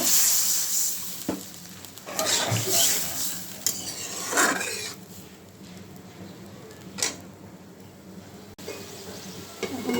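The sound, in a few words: water added to fried spice masala in pan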